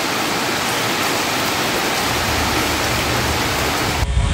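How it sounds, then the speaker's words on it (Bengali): Heavy rain roars in a thick, constant wash of noise, cutting off abruptly near the end. "এখন বৃষ্টি হচ্ছে"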